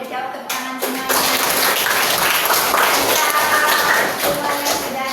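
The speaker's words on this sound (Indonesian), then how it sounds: "Tepuk tangan semuanya." A school class breaks into applause after a teacher's prompt, a fairly close, busy patter of many small hands clapping that swells after a brief quieter start and carries on steadily with some voices mixed in.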